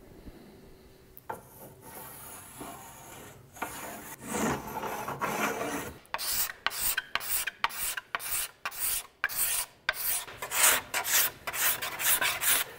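Wood being rasped off a hickory self bow, scattered scraping at first, then a steady run of rhythmic back-and-forth rubbing strokes, close, loud and alone.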